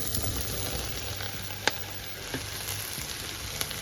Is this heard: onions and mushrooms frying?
yes